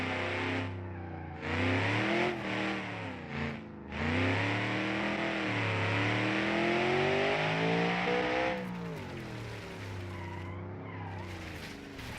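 Powerful 755-horsepower two-wheel-drive car in a video game revving hard and skidding, engine harmonics climbing and falling continuously, loud and close with tire squeal throughout and no talking.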